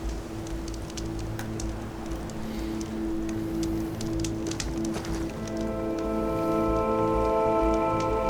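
Steady rain patters on surfaces in Horizon Forbidden West, a soft even hiss with scattered drop taps, joined partway through by sustained tonal game music layers.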